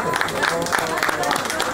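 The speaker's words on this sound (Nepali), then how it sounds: "ताली बजाउन नफुटाउँ है" Applause at a wedding: a steady patter of many hands clapping together, dense and continuous, with voices talking over the crowd throughout.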